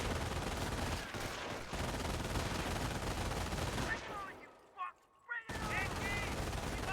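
Gunfire and battle noise from the World War II strategy game Company of Heroes rolls on as a dense, continuous din, dips into near-silence for about a second, then resumes at full strength.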